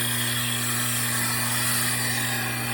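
Tormek wet sharpening system grinding a blade on a 1000 grit stone, a steady continuous whirring hum with a constant low motor tone throughout, fairly close and with no one talking.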